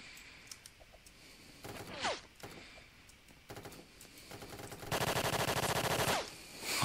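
A PPSh submachine gun fires in a close-quarters video game fight, giving short bursts and then a long, loud, rapid burst near the end, mixed with scattered clicks and game effects.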